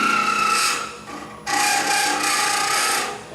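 A half-inch spindle gouge cuts wood on a lathe while a goblet is turned, giving a steady loud rasping scrape with a brief dip midway, then continuing alone.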